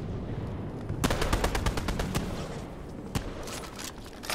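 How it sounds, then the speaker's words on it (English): A machine gun in Fortnite fires a quick, loud series of sharp shots, a single shot follows a moment later, and then a faint crackle lingers in the background. "It's a machine gun if anyone need one."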